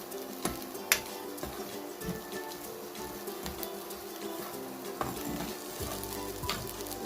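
Buff fried rice sizzling in a hot pan on a gas stove while being stirred, a continuous frying crackle punctuated by scattered sharp taps and scrapes of the utensil against the pan, close and without speech.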